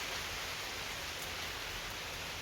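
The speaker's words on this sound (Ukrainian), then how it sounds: "Ловкий дощик, слава Богу." Light rain falling outdoors over a garden, a soft continuous hiss of drops with no voices, steady and even from start to finish.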